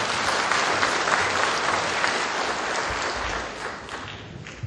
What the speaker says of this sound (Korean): 뜨거운 박수 부탁드리겠습니다.